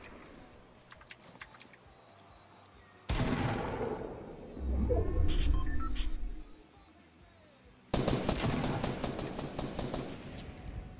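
Gunfire in the Fortnite video game, heard as bursts of sharp, rapid shots in two loud stretches with a busy, rumbling passage between them, with no talk over it.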